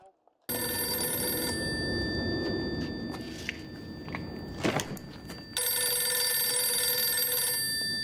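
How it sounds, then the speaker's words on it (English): A telephone rings loudly with a steady electronic trill, briefly interrupted by a short burst of rustling before the ringing resumes. "How can you be ringing? What's that about, ringing? It's a phone."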